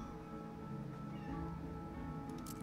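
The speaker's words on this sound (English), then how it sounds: "the cat is now whining about something" A cat meows and whines over steady game music, close and fairly quiet, with no talk.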